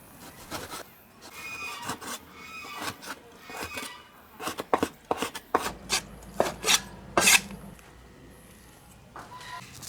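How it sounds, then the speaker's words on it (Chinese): Knife dicing pork on a cutting board, a run of quick, sharp chops that grows louder and more clustered toward the end, with no talk. "猪肉切成丁儿"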